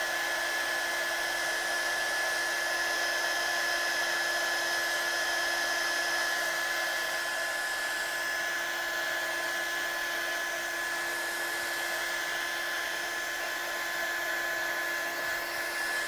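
A heat tool blows steadily for a long stretch, drying stamped ink on the back of a watercolour card; a constant loud whirring hum with a high whine, unbroken and with no talking.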